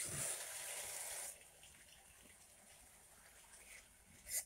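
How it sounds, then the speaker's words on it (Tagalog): Water poured from a tap into a pot for cooking sinigang, a steady gushing splash for over a second, then quieter trickling and a brief louder splash at the end. "Lagyan natin ng tubig."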